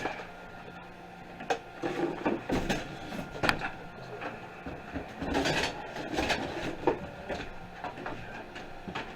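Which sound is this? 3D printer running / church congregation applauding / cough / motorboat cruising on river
3D printer running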